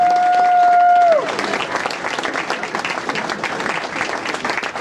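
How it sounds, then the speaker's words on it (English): Banquet audience applauding the inductee class at a sports hall of fame induction banquet. A steady electronic tone fades out in the first second, then dense, sustained clapping from a large room of people fills the rest. "How about a nice round of applause"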